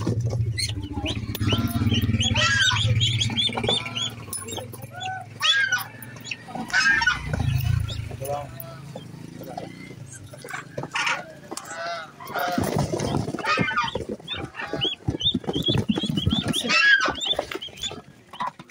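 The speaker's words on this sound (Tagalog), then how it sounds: "Ito naman po yung malalaking rare na pato po." Large rare ducks on a farm quack and honk in a noisy flock, calls overlapping near and far with a low steady hum beneath during the first half.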